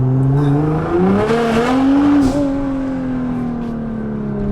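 Nissan GTR engine revving loudly up close, its tone climbing through a rising pitch, peaking, then settling into a steady high-pitched drone.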